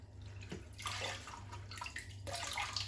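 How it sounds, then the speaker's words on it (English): Tap water runs steadily into a sink while a pond prefilter sponge from an Oase Biomaster is rinsed, with a continuous splashing hiss, swelling and easing, plus a low hum underneath. "give them a wash under the tap, clean water going over the top of them"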